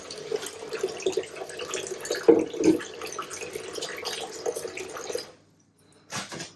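A sink fills with water from a tap, a close, continuous splashing trickle with a few louder drips and gurgles, then the flow stops briefly before a short final burst.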